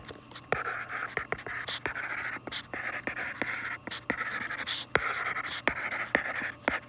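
A marker squeaks and scratches across a board in short, rapid strokes while writing out a geometry statement, the scribbles coming in quick irregular bursts close up, with no talking over them.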